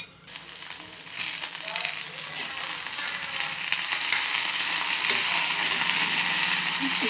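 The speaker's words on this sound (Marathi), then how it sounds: "कांद्याचा जो ओलावा असतो त्याच्यामध्ये हे बटाटे छान दबू द्यायची दबेपर्यंत परतवायची" Potatoes and onions sautéing in a pan over a low flame for a potato-tomato bhaji, a steady broadband sizzle that builds slightly louder over time, with occasional soft stirring scrapes and no talking.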